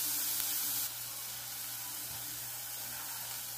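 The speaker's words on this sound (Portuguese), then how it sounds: "Tem uma cebola picada. Vou deixar ela refogar até ficar transparente." Chopped onion sautés in a pan as a steady, even, faint hiss of frying that carries on unbroken and quiet, with no one speaking.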